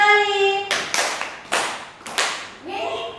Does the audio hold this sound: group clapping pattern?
yes